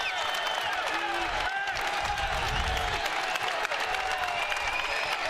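A college basketball crowd at a Wright State versus Robert Morris men's game applauds and cheers loudly and continuously, with whoops rising over sustained clapping and arena noise.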